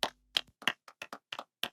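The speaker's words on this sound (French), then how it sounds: "Applaudissez pour elle." A small classroom group claps for a student, giving about eight sharp, separate hand claps in an uneven rhythm, loud and close with quiet gaps between them.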